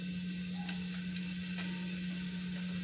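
Chopped onions, two medium ones, sizzling in hot oil in a home kitchen while chicken biryani is being made; a steady, close, even crackling hiss with faint stirring scrapes and no voices.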